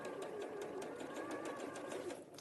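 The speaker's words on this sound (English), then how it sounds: "So again, you're going to sew fractionally outside the line." Steady, fast rhythmic stitching of a sewing machine running through fabric, a continuous mechanical chatter at moderate volume with no talk over it.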